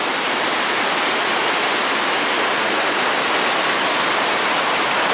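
A waterfall on the Brule River rushes in a steady, loud, broadband roar that holds unbroken without any voices.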